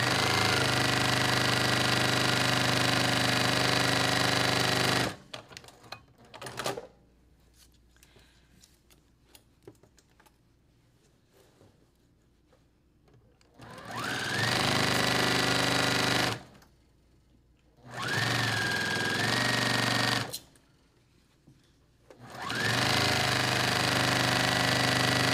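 A sewing machine stitches seams in scrap fabric for quilt piecing, running loud and close in several sustained bursts separated by quiet pauses full of small handling noises.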